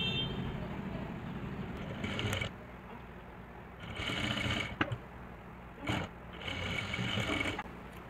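Sewing machine stitching a lehenga blouse seam, running in several bursts of whirring mechanical hum separated by brief pauses, close and moderately loud.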